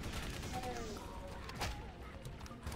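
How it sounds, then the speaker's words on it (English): Gunfire crackles throughout a chaotic Halo video game match, heavy and constant, with a sharper crack near the middle and voices talking over it. "It's sniper bullets."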